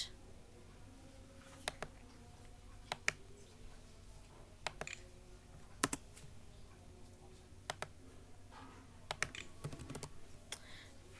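Keys on a computer keyboard are struck in scattered short bursts of crisp clicks, close up and moderately loud against a faint steady hum, with no talking.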